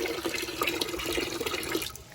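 Water running into a boiler sight glass as its valves are opened fully, a steady close trickling and splashing flow with small drip-like details, no talking.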